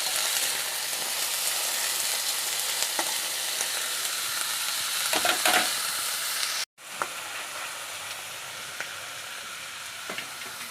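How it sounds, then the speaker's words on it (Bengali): Onions frying in a pan with whole garlic for chicken curry: a continuous loud close sizzle with a few stirring clicks, broken by a brief silent cut partway through, then resuming. "পেঁয়াজটাকে খুব ভালো করে ভেজে নিতে হবে"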